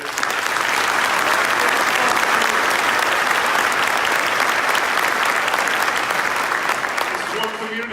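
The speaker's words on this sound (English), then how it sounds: "They deserve a round of applause." Sustained, loud applause from a large crowd at a police recognition ceremony honoring injured officers, a steady roar of clapping lasting throughout and tapering slightly at the end.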